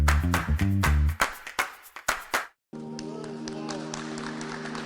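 Applause greets ten Ukrainian civilians freed from prison: a burst of clapping and crowd noise that fades in waves, then gives way to a sustained tonal sound.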